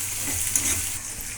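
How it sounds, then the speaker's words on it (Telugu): Curry leaves dropped into hot oil for a Telangana-style egg fry, a steady close sizzle with faint stirring scrapes and no talking. "కరివేపాకు వేస్తున్నా ఫ్రెండ్స్."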